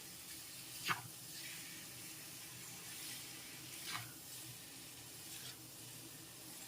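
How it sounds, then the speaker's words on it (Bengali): Masala Maggi noodles being stirred and mixed in a pan: a steady sizzle underneath, with a few brief scraping strokes at about 1, 4 and 5.5 seconds and no talking. "সব কিছু একসাথে নেড়েচেড়ে একটু মিশিয়ে নেব"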